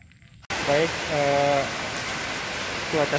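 Steady, loud hiss of rain falling, a dense even wash starting abruptly and continuing throughout, with someone speaking over it in short stretches.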